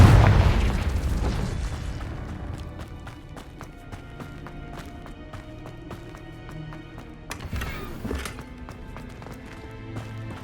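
A Confringo fire spell explodes in the Hogwarts Legacy video game: a heavy booming blast opens, a second crackling burst follows later, and busy game effects continue between them.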